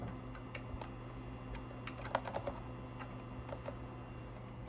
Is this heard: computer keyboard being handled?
yes